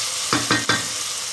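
Ginger garlic paste fries in a pan with a steady broadband sizzle, broken by three quick, louder stirring scrapes close together near the start. No one speaks.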